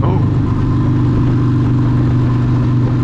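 A 1995 Harley-Davidson Sportster with an Evo 1200 engine roars steadily at close range, its loud, thumping low rumble continuing without a break and with no voices over it.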